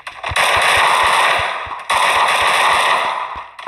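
Rapid bursts of automatic gunfire in the video game Garena Free Fire crackle in two long volleys, loud and close, with a brief gap between them.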